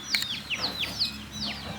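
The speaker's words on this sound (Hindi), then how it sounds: "आप मुर्गे देख लो भाई" Several short, high chirping calls from a rooster, repeated in quick succession over a faint low background hum, at a dog farm in Rohtak.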